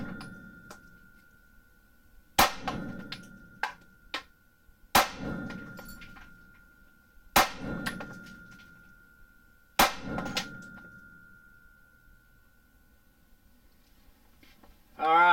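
9mm Lehigh Defense 90-grain Xtreme Defense rounds fired over a chronograph, four sharp, loud gunshots spaced a few seconds apart, each followed by a ringing tone and brief echo, with a few lighter clicks between.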